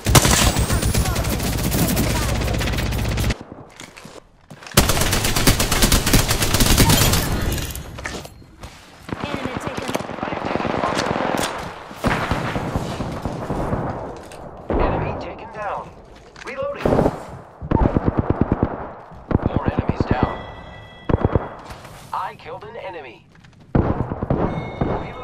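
Rapid gunfire bursts from a first-person shooter video game, Apex Legends, sound loud and dense in fast repeated volleys, broken by short pauses, with game voice callouts and a player talking over much of it.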